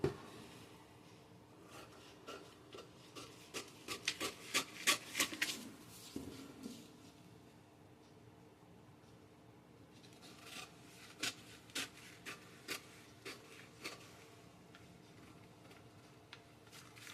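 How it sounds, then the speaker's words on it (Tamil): Soft, crisp snips and rustles of scissors cutting a fabric pattern piece for a blouse front, coming in short clustered bursts with pauses, close and quiet. "இதை வந்து கட் பண்ணி எடுத்துக்கலாம்."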